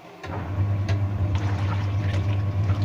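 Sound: VON twin tub washing machine agitating clothes

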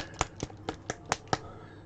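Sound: paint dropper bottle tapped against hand

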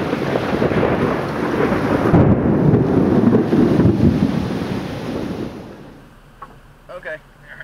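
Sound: large hail and thunderstorm hitting a car

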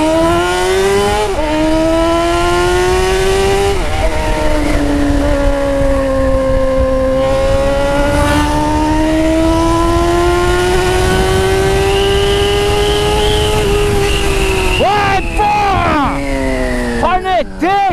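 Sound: motorcycle with cut exhaust header revving

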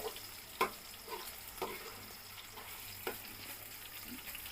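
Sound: frying veg soya chunks in a pan

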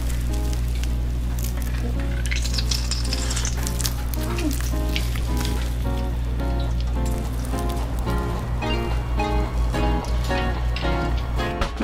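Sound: frying hoppang steamed buns in oil, sizzling

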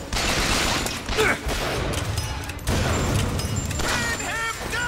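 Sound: gunfire in the video game Bioshock Infinite

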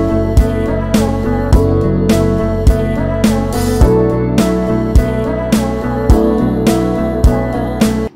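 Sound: 8-bar indie rock loop made in FL Studio with drums, chords and bass

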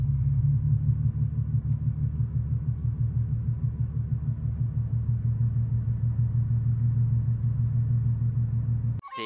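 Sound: Nissan 370Z NISMO engine running as clutch is released

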